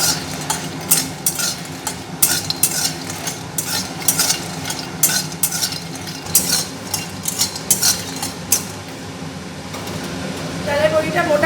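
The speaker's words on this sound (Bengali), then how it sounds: "ডালের বড়িগুলোকে আগে একটু শুকনো কড়ায় নেড়ে চেড়ে দেবো" Dried lentil dumplings (dal bori) are stirred and scraped in a dry karai with a spatula, giving a steady run of clattering, scraping strokes under a low hum, with a voice talking over them.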